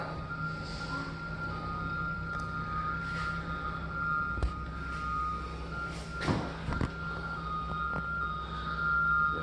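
A concrete truck arrives at a house renovation site for a driveway pour, its reversing beeps repeating steadily over a low diesel engine hum, with occasional clanks and air bursts nearby.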